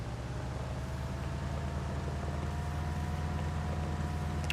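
Steady low tractor engine drone from the farming video game Pure Farming 2018, set in Italy, running continuously at an even, fairly loud level with a faint airy hiss and no talking.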